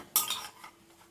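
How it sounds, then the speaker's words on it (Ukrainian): A whisk rattles briskly against a bowl as syrnyky batter of cottage cheese, eggs and vanilla sugar is beaten, a loud burst of clinking strokes that fades into quieter scraping within about a second. "І буду збивати."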